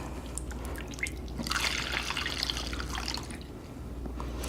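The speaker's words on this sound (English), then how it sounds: "I'm just going to fill up my bottle here" Homemade liquid laundry detergent poured into a bottle, a close, quiet continuous trickle and splash of liquid with small drips, swelling in the middle and tapering off.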